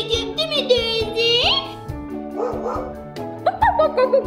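A dog barks in a comedic Turkish video about a stray dog taken to the vet, a string of lively close barks and yips with whimpery rising tones, mixed with a high, cartoonish voice.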